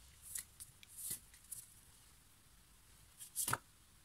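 Tarot cards being drawn and flicked from a deck, faint papery swishes and snaps in a few short bursts, close but quiet, with a louder cluster of card noises near the end.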